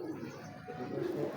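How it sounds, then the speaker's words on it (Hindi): Soft cooing from a black-faced pigeon kept in a breeding pair, low murmuring coos rising near the end against light background noise. "बड़ा अच्छा काले मुंह वाला कबूतर जो है"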